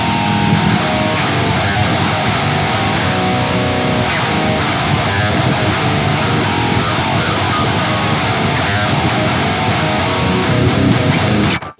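Two sections of a heavy 8-string electric guitar riff played back to back, chugging low-tuned power chords under thick distortion, loud and unbroken for nearly twelve seconds, no voices.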